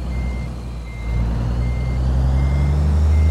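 A truck backs a trailer with a steady reversing beep repeating over a loud, constant diesel engine rumble, close by and without talk.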